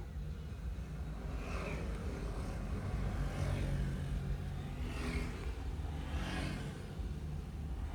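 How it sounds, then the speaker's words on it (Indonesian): Construction project vehicles passing near a pond being renovated in rural Subang, a continuous engine rumble with several swelling whooshes as vehicles go by in turn at moderate distance. "Jadi masih banyak mobil-mobil proyek yang lewat karena masih proses renovasi."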